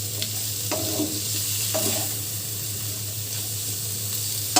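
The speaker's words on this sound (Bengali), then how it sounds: "এবার এটা মাংসের সাথে ভেজে নেব" Chicken sizzles steadily in a pan, with occasional scraping stirs and clinks of a utensil over a low constant hum.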